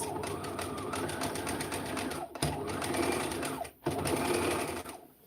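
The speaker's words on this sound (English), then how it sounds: "So I'm going to literally zigzag next to where I want to cut." A sewing machine runs a zigzag stitch along knitted fabric ahead of cutting, its fast needle rhythm rattling close and steady, briefly stopping twice before resuming, with no voice over it.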